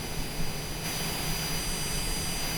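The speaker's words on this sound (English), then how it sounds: "let's go back inside and we'll kill that left engine" A Cessna Longitude business jet engine running in a flight simulator game, a steady, even jet roar with a constant whine on top, holding level without change, and no talking.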